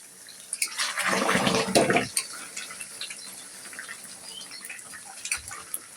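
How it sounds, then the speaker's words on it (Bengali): Hot water is poured into mutton curry in a pot, a loud gushing splash for about a second, then faint bubbling and small clatters; no speech. "অল্প করে পানি দিয়ে দিলাম"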